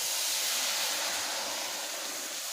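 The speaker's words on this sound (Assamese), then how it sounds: "এতিয়া কেৰাহীখন ধুনীয়াকৈ শুকালে জুইত, আৰু মই এতিয়া উতলাই ৰখা গৰম পানী ইয়াত ঢালি দিম।" Hot water poured into a dry, heated wok throws off a loud, steady steaming hiss that fades slightly over a couple of seconds, with no voices.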